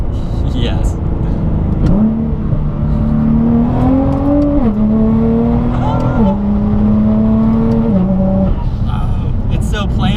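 A Rocket Bunny Nissan GT-R's engine drones loudly from inside the car, its pitch climbing and stepping down through several downshifts while occupants talk over it.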